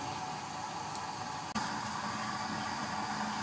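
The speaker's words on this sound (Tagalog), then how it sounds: "Lakasan po natin yung blower." The blower on a homemade used-oil cooking stove roars as a steady, broad rushing whoosh, with a faint click partway through and a slight shift in tone afterward.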